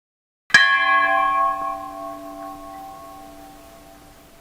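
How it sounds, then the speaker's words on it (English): A single clear strike of a metal temple bell at Bhimtal in Uttarakhand, loud and close, ringing on with a long, slowly fading tone. "There are countless bells in different sizes and shapes hanging in the temple premises."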